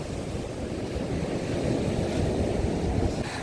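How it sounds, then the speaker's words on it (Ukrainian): Strong sea waves churn in a storm at Odesa, a dense continuous roar of surf mixed with gusting wind buffeting the microphone, loud and unbroken throughout. "зараз ж не можна купатися, бо такі сильні хвилі"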